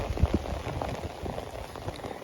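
Heavy rain falls on rice paddies at planting time, a dense, soft patter of drops hitting water and ground, steady and fairly quiet.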